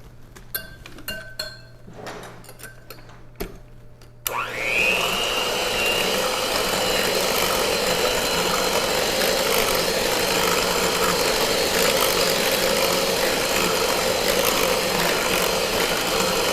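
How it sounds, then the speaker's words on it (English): A blender starts after some clinking of dishes and utensils and then runs steadily and loudly, whirring continuously through sugar-free cheesecake brownie mix. "let's go ahead and blend this up"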